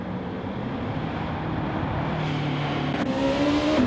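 Race car engine in a sim racing video game, a steady loud drone that rises in pitch toward the end as the car accelerates, with no talk.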